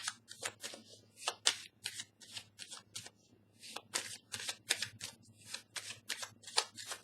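Tarot cards shuffled by hand in a quick, uneven series of crisp riffling bursts, close and fairly quiet over a faint low background hum, with no talking.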